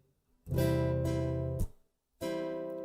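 Slow strummed guitar chords, a long ringing strum that is cut off, then another strum rings out; no voices.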